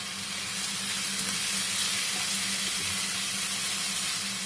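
Crushed onions fry in oil, giving a steady, even sizzle and hiss that carries on without a break. It is moderately loud and close, with no voices over it.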